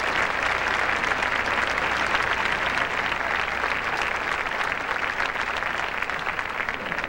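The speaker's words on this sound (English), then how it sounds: "Give a nice round of applause for our finalists," Ballroom audience at a 1997 championship standard final applauds the finalist couples, a full, sustained round of clapping from a large crowd that stays loud and even throughout.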